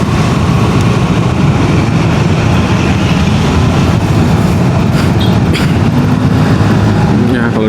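A train rolls past a railway crossing, heard close by from a waiting Yamaha Xmax scooter. The loud, continuous rumble carries clacking of wheels and brief metallic squeals, and voices sound faintly beneath it.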